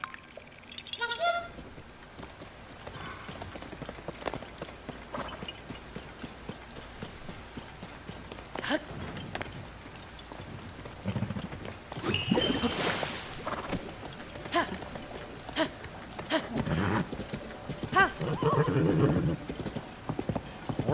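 A horse in the Zelda: Tears of the Kingdom video game clops along with soft intermittent hoof steps, while whinnies and snorts rise above scattered game sounds and rain-like noise.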